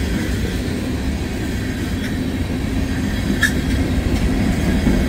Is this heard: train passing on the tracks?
yes